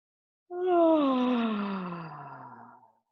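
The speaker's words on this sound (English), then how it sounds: "Take a big exaggerated yawn." A big exaggerated yawn during a modern hatha yoga session, one long voiced exhalation that starts strong and slowly falls in pitch and fades over about two and a half seconds, alone in a quiet room.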